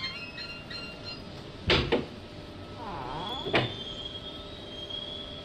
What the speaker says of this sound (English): I thought I heard somebody come through my front door